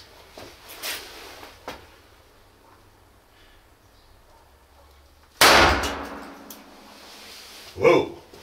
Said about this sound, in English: I'm now going to be shooting against this wooden board